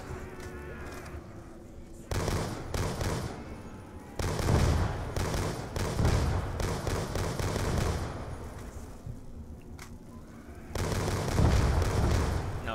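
Gunfire in Call of Duty: Black Ops II Zombies on the Town map, with dense, rapid automatic bursts and booming shots in heavy clusters broken by brief lulls, loud and close.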